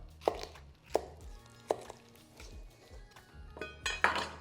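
Cooked Hainanese-style chicken is cut and its wings broken apart on a board, giving sharp chopping knocks and cracks at irregular intervals with faint clinks in between.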